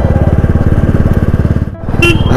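A Bullet 350cc motorcycle engine thumps close up while riding through Natore, a loud, steady low-pitched beat that dips briefly near the end before a short horn-like tone rises over it.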